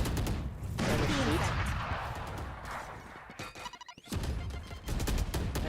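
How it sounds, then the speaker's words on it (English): Grenade blasts and gunfire crackle back and forth in a Valorant esports match, a dense run of bursts and crashes with a brief lull near the end before the shooting resumes loudly. "as you hear the nades being exchanged, nearly making that one work"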